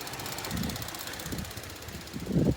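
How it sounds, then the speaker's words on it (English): A GMC Acadia engine idles rough on a cold day, with a low, uneven mechanical hum that swells in irregular pulses, close up. "This thing runs pretty bad. The purge solenoid is clicking like crazy, and then the engine almost died."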